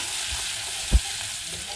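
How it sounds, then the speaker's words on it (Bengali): Grated ginger fries gently in a pan with a continuous hissing sizzle and one soft thump near the middle. "আদাটা একটু ভেজে নেব"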